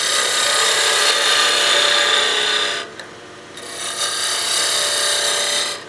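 Wood lathe with a hand tool cutting a turned wooden birdhouse ornament foot, a steady close rasping scrape that stops briefly near the middle and then resumes at full strength.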